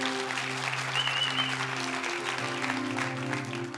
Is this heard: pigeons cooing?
no